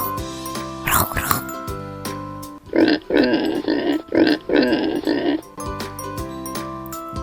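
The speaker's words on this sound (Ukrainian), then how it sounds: "Кабани рохкают. Рох-рох." Several short, rough grunts from a wild boar in a rapid cluster over light background music, with a brief noisy burst before them.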